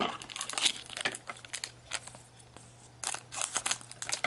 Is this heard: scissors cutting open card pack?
yes